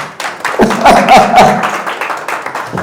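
Audience clapping at a business talk, a short loud round of hand claps close by with some laughter and voices mixed in.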